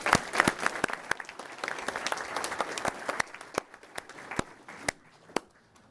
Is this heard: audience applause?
yes